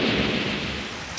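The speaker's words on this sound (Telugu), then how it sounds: "దీని లోపలికి వెళ్తే మన మీద వర్షం పడదు" Rain and a low rumble of thunder fill a cartoon storm scene about a stone age boy, a steady loud wash of broadband noise with deep rolling low end throughout, no voices.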